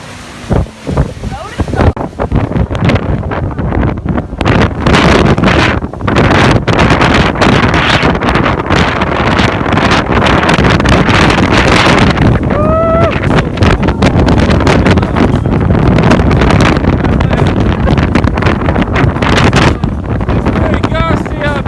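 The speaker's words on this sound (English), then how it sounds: "Very gusty up here. I think probably 70 knots of wind, baby." Strong, gusty hurricane wind buffets a sailboat in the Atlantic near Georgetown, Bahamas, loud roaring blasts and rustling flapping that pound the microphone without pause, with a voice briefly heard amid the gusts.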